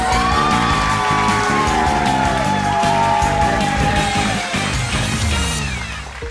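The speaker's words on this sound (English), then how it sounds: "Please give a big round of applause for Misha and Bruce." A school audience at a primary-level contest claps hard and yells, whoops and cheers for two contestants, a loud, dense burst that stays full for several seconds before easing off near the end.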